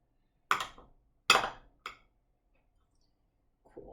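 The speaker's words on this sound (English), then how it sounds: "My butter's not super warm, so I'm just chopping it." A knife chops through cold butter on a cutting board for cake baking, giving three sharp knocks in quick succession, fairly close and clear with no talk over them.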